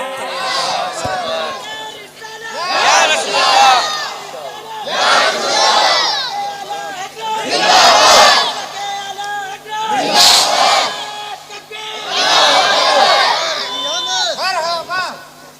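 A large crowd at a religious gathering shouts its answer to a takbir call in repeated loud chanted waves, each lasting a couple of seconds with brief pauses between, close and forceful.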